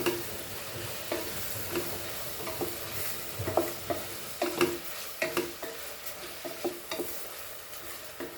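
Goan blue crabs fry in a pan with a hissing sizzle, broken by a string of clanks and scrapes as they are stirred and turned, some knocks sharper and louder than others.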